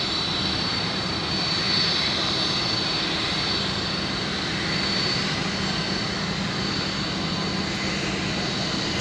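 An Emirates Boeing 777 airliner's jet engines roar steadily at London Stansted Airport, a sustained, loud drone with a faint high whine running through it, with no voices.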